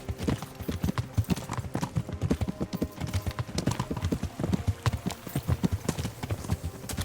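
Horse hooves galloping in the video game Kingdom Come: Deliverance, a fast, loud, rhythmic clip-clop of hoofbeats pounding steadily throughout.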